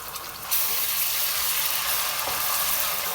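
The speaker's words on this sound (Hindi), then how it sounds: "अब अदरक लहसुन को थोड़ा सा भून के" Ginger garlic paste fries in a hot pan for a spicy kareela gosht, bitter gourd with meat, giving a loud, steady sizzling hiss that swells slightly after the first half second, with no talking.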